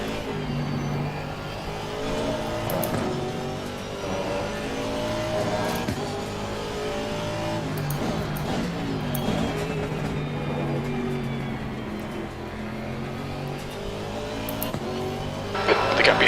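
Race cars lapping Spa, including a Porsche through Eau Rouge, in a VR racing game, engines droning and revving continuously up close with a faint tire squeal, a voice talking over the engines.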